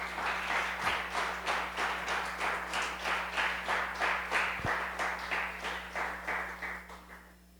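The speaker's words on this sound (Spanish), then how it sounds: "Dar un aplauso a Dios por eso" Church congregation applauding together, a rhythmic unison clapping of many hands beating at a steady pace for several seconds before tapering off.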